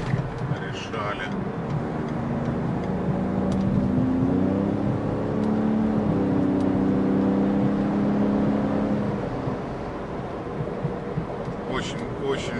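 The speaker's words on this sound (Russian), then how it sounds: "Очень быстро набирает автомобиль скорость." A 2017 Ford F-150 Raptor accelerates in traffic, its engine a low, steady drone that rises in pitch and swells midway before settling, heard from inside the cabin under light road noise.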